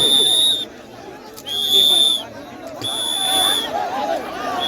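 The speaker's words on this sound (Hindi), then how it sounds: "कान में सीटी मारिए भाई, इसके कान में सीटी मारिए" Sharp whistle blasts at a traditional kushti dangal wrestling match in Nepal, three high steady tones of about a second each, sounding over a noisy crowd with shouting.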